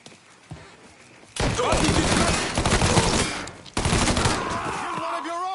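Sustained, dense gunfire crackles through a Mafia 3 Definitive Edition shootout in two long, loud bursts separated by a brief gap, with shouted voices faintly mixed in.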